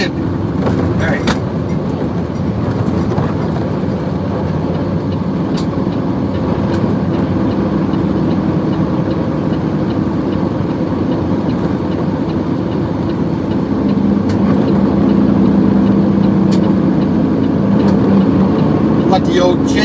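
A semi truck's diesel engine holds a loud, continuous low rumble under Jake brake as the truck slows, with the rumble swelling slightly near the end and a person talking over it.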